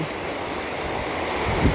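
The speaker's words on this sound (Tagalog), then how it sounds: "lumakas yung tubig." Water rushes hard through an opened dam during a storm, a loud, continuous broadband roar with wind buffeting the microphone and a brief surge near the end.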